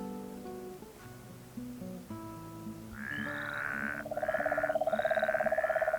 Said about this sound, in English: If the frogs would shut up